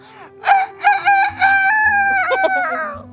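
A voice imitates a rooster crowing, a loud drawn-out cock-a-doodle-doo with a choppy start and a rising, wavering finish.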